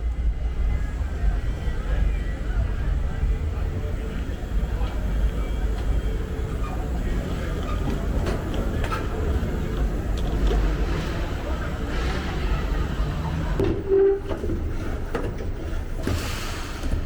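Steady low rumble of a Metro Rail train at a platform toward Union Station, with rolling mechanical noise, faint squeals and a brief clunk near the end.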